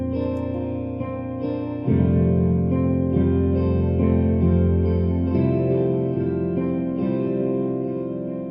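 A sustained chordal music loop plays through a free VST stereo delay plugin, with chorused, repeating echoes smearing each chord change, steady and moderately loud, no voices present.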